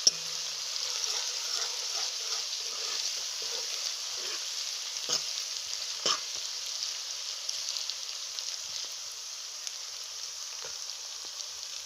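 Ginger garlic paste frying in a pan until light brown, a steady bright sizzle with faint stirring scrapes running continuously and close, with no talking.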